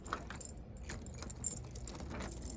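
A bunch of keys jangles and rattles continuously at close range, with soft metallic clinks throughout and no talking.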